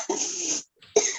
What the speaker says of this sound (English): Oh, who's coughing?